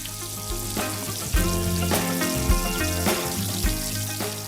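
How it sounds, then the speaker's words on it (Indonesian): Loud, steady sizzling and crackling of salted gourami fish frying in hot oil, with occasional clunks from a utensil or pan, close by. "Kemudian kita goreng sampai matang."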